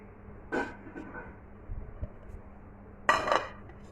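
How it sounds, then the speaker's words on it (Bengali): A spoon stirs lychee dessert in a pan, making a few scattered clinks and scrapes against the metal, quiet with louder knocks at the start and end, and no talking. "অনবর্ত নেড়ে যেতে হবে না হলে এগুলো দলা পেকে যাবে"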